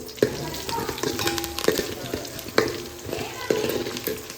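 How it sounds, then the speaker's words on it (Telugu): Vegetable pieces cook in a tempering with asafoetida, giving a low sizzle broken by sharp spoon-on-pan knocks and scrapes at irregular intervals. "ఇవన్నీ కూడా ముక్కలు కూడా మంచిగా తాలింపులో మగ్గనివ్వాలి"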